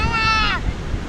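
Ocean surf washes onto the beach at Pantai Ambal in a continuous windy rush, with a brief high whistling tone riding over it at the start.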